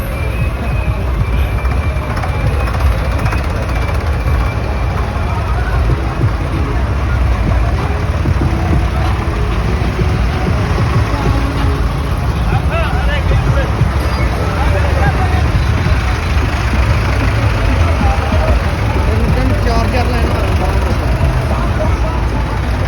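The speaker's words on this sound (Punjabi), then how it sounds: "ਅੱਜ ਟਰੈਕਟਰ ਰੈਲੀ ਨਿਕਲ ਰਹੀ ਹੈ ਦਿੱਲੀ 'ਚ" Tractor engines rumble continuously at a large farmers' tractor rally in Delhi, a loud dense wash of motor noise mixed with crowd babble and voices throughout.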